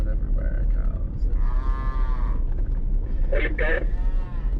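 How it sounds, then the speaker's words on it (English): Cattle moo along a high mountain trail near the Wyoming border, several drawn-out lowing calls from different animals at moderate distance over steady engine or wind rumble. "Cows everywhere, cows."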